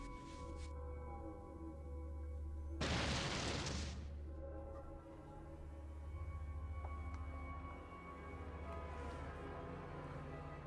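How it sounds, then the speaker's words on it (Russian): A bomb goes off in the game Fallout 2, one loud broadband boom lasting about a second, with a rumbling tail over steady low background music. "попробуем еще один взрыв"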